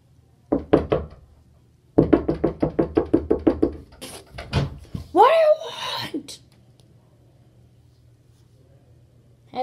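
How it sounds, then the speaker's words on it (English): Repeated knocking on a wooden dungeon door in a video game, two quick bursts of raps followed by a longer rapid run of close, hollow knocks, then a rising wail-like voice and quiet. "knock on the door until someone lets you out"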